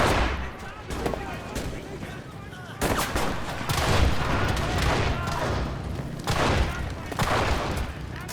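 Automatic gunfire in the video game Enlisted: loud, dense bursts of rapid shots that repeat in close succession with brief gaps, sounding up close and continuous.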